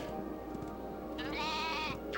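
A sheep in the video game Spyro 2: Ripto's Rage lets out a single wavering bleat, clear and fairly close over a steady game background hum.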